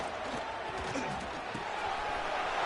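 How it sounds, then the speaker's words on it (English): A fired-up stadium crowd at a football game roars as a continuous, dense wall of noise, with a commentator's voice running over it. "this crowd is fired up. Listen to this noise here."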